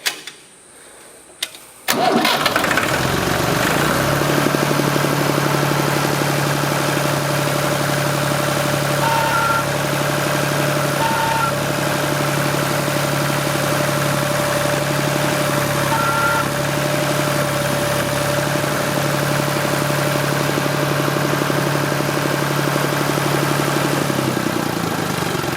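A Massey Ferguson MF20 tractor engine cranks briefly, catches and settles into a steady, loud, rumbling idle with constant vibration that continues for over twenty seconds, close by with no talking.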